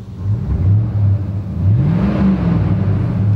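An aging high-mileage car engine with modified exhaust revs up twice in quick rising-and-falling pulls over a low, steady rumble, close and fairly loud.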